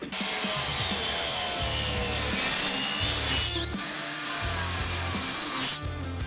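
Hand sawing through a piece of scrap maple, rhythmic back-and-forth rasping strokes close by, with a brief pause midway before the cutting resumes.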